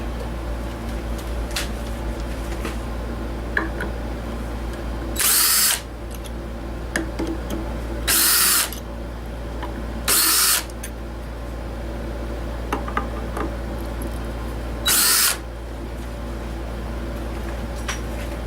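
A drill bores a small hole into a spalted maple bowl blank held in a chuck, four short, sharp whirring bursts cutting over a constant low machine hum.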